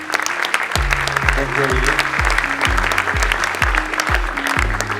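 Audience applause welcoming a speaker at an event, a dense patter of clapping sustained throughout under a short spoken greeting, with a low rhythmic thumping beat running beneath.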